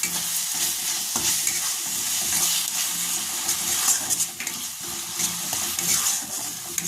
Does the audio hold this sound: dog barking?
no